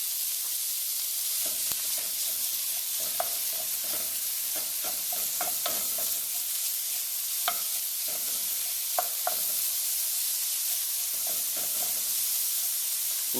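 Beef seasoned with kosher salt and pepper frying in a pan for a grilled beef and cheese sandwich, a constant loud sizzle with frequent clacking stirs and scrapes near the mic.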